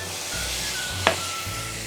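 A spoonful of garlic fries in hot oil with a soft, steady sizzle close by. A single light clink of a utensil sounds midway, and a low hum runs underneath.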